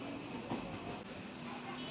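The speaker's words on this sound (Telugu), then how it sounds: "పాలకొల్లు నుంచి మన ట్రైన్ బయలుదేరింది" A passenger train pulls out of Palakollu station, its steady broadband rumble and rolling noise filling the scene at close range, with a brief louder bump near the half-second mark.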